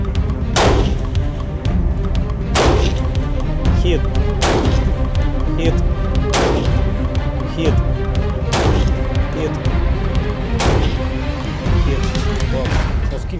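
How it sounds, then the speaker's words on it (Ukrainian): Heavy gunshots from an SPR rifle fire at a steady pace at long range, roughly every two seconds, each a sharp crack over a constant low rumble. "робимо постріл на значну відстань"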